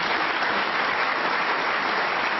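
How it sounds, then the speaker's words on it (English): A knowledgeable Crucible snooker crowd gives a round of applause, a dense, steady wash of clapping that holds at full strength from start to finish with no voices on top. "The round of applause from this knowledgeable Crucible audience"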